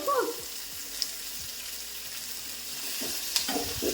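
Paneer with capsicum and onion fries in a pan at home, with a low, steady background sizzle and a few faint stirring scrapes near the start.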